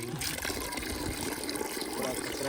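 Water being drawn in a village setting, a continuous close gushing and splashing flow with a voice speaking faintly underneath.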